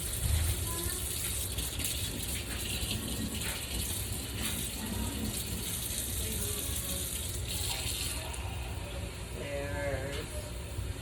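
Water runs steadily from a kitchen tap throughout, lukewarm water being measured for bread dough, a continuous rushing hiss with a few faint clinks and shifts in the flow.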